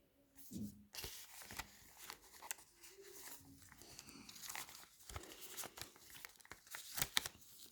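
Collectible packets crinkle and tear faintly up close, with scattered rustling and crunching plastic and some soft talk mixed in.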